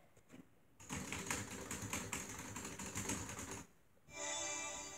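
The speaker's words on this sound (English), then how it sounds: "Okay, I'm typing it in." Rapid clattering keystrokes on a computer keyboard, a dense run of close clicks for several seconds, then a pause and a steady hiss.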